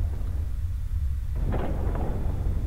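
Thunder rumbles through a music video teaser, a low continuous roll with a sharper crack partway through over steady rain-like noise, loud and close, with no talking.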